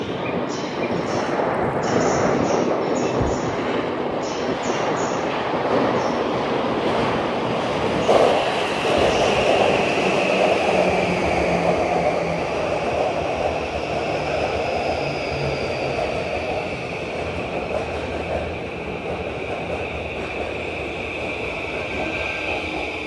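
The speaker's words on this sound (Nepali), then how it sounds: "ट्रेन आयो ल" A train runs through an underground station five levels below ground, producing a loud, continuous rumble with rising wheel screech and hiss that lasts more than twenty seconds and is heard without any voices.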